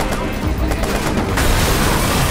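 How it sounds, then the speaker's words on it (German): Gunfire in the video game Watch Dogs, a dense, loud, continuous barrage of rapid shots and blasts filling the whole short stretch. "Watch Dogs kann man auch mal schön ballern und einfach draufhalten"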